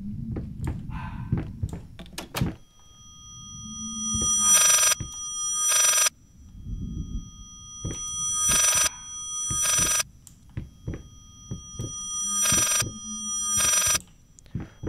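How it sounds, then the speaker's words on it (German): A harsh telephone ringtone from the horror game Layers of Fear rings in loud, repeated bursts separated by short gaps, with quieter thuds and creaks between the rings and no talking. "Das ist der wohl schrecklichste Klingelton, den ich jemals hatte."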